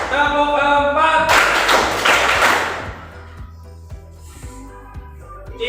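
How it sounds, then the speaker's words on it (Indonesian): At a school gathering, a group claps along in a counted pattern, a brief loud burst of hands after a leader's voice, then trailing into a few faint, spaced taps. "Tepuk 1, tepuk 2, tepuk 3, tepuk 4"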